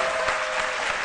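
Studio audience applause on a midday television show after a cinema and media segment, a brief, even wash of clapping at moderate loudness with no voices over it.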